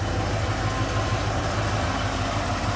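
A Bullnose Ford truck engine idles steadily nearby, a low, even rumble with a slight rhythmic throb and no voices.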